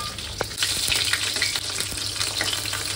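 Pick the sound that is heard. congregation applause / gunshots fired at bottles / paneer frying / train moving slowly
paneer frying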